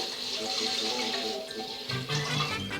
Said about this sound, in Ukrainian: І наливаємо молоко.